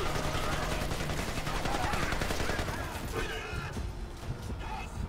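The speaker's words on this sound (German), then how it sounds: "Wir müssen auf den Container dahin schießen" Gunfire in the video game Splinter Cell Conviction rattles out in rapid, dense bursts that are strongest early on and thin out toward the end, with players' voices faintly mixed in.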